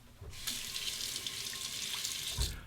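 Water runs from a tap for a rinse after a razor shave, a steady close splashing stream that starts abruptly and ends with a brief louder gush.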